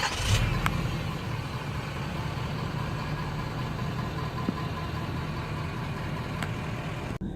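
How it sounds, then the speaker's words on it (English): A 2017 Ford F-250 Super Duty diesel engine idles with a steady low rumble, continuous and fairly close, with a couple of faint clicks near the end. "I still think they still have this nice diesel purr, what I call it, like a diesel purr that happens"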